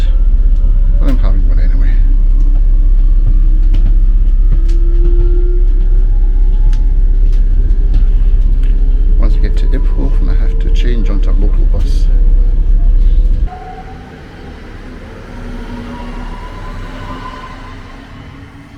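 Inside a train carriage on a short one-stop ride, a steady low rumble and rattling runs under speech, with clacks and squeals along the way, then the noise drops suddenly to a quieter hum.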